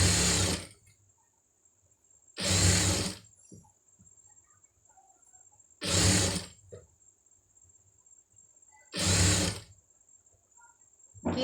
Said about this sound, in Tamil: எடுத்து விட்டுட்டு அப்படியே தையல் போட்டுருங்க.